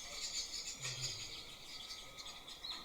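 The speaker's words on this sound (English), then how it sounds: "so beautiful to hear them making the chirping noise" Weaver birds chirping around their nests, a steady wash of high, thin twittering calls from several birds at a moderate distance, continuous throughout with no talk.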